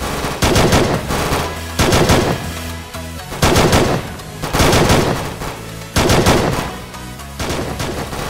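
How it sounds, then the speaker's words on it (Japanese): Cannon fire in a naval battle between the Oda and Mori fleets at Kizugawaguchi, with loud, rapid volleys of booming blasts repeating about every second and a half. "吉高の指令で距離の離れた畑船めがけて大砲が放たれ始める。"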